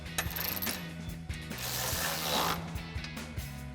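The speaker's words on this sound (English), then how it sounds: "Then you can take your 13mm socket and your extension and tighten that down." A socket ratchet with a 13mm socket on an extension tightens a bolt while installing running boards on a Jeep Gladiator JT, making a close, steady run of rapid metallic pawl clicks in repeated strokes, with no talking.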